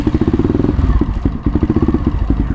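A new Dukare Boomber 250 four-valve scrambler motorcycle starts up and settles into a loud, close, rapidly pulsing idle with a brief dip partway through, no talking.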